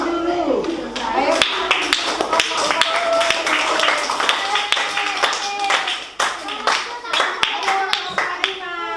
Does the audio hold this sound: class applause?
yes